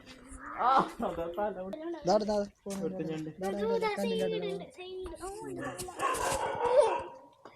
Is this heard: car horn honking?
no